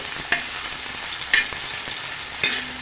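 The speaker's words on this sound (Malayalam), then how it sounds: "ആ വെളിച്ചെണ്ണയിലേക്കാണ് നമ്മുടെ ഒരു സവോള ഇട്ടിട്ട് വറുത്ത് കോരി എടുക്കുന്നത്." Onion fries in hot coconut oil in a pan, a close and steady sizzle punctuated by three light taps of a stirring utensil.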